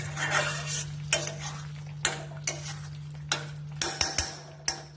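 Meat frying in oil in a pan is stirred with a spoon, giving a soft sizzle broken by a series of sharp metallic scrapes and clinks against the pan, with a steady low hum underneath.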